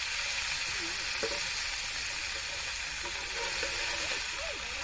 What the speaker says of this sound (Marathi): हे बघ आपलं मासं आता फ्राय करून झालं एकदम जबरदस्त दिसतात ना